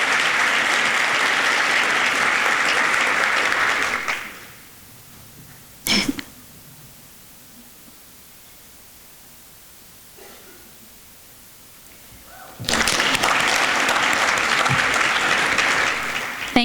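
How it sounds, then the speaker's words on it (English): At an awards and scholarship ceremony, a hall audience gives dense, sustained applause that fades into a quiet room with one brief noise, then swells again into a second strong round of clapping. "Let's give them another round of applause."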